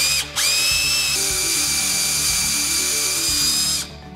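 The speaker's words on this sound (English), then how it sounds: "we're going to drill the hole where this oil galley was" Power drill boring an oil gallery hole in a Toyota 3RZ engine block: a loud, steady high-pitched whine runs nearly four seconds with slight load changes, starting and stopping abruptly, close and with no talk.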